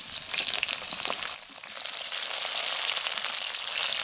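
Brinjal pieces fry in hot oil with a steady bright sizzle and crackle, dipping briefly before resuming at an even level, close and clear with no talking.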